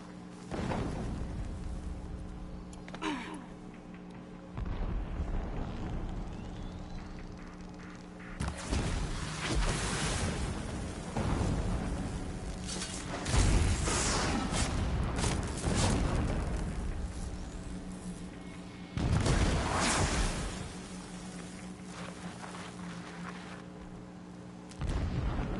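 Distant explosions in the Horizon Zero Dawn video game, several dull booms rolling through a steady low game ambience, with bursts around the middle and near the end, no voices.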